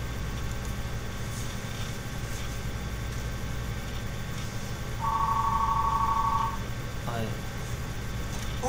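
A telephone rings once with a steady electronic tone lasting over a second, midway through a stretch of continuous indoor background noise.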